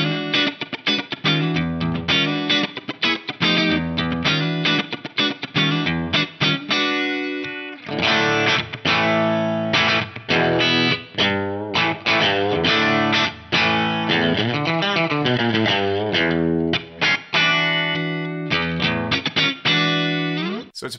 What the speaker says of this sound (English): Let's just hear the core amp, cab, and reverb tone first on the neck pickup of this Strat and then the bridge pickup.